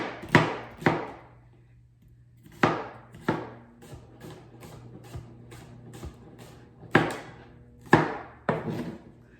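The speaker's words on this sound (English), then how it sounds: "I'm gonna quarter it and chop chop" A knife chops a small, tender seedless cucumber into quarters on a board: sharp, close cuts arriving in uneven clusters with short pauses between, with no talking.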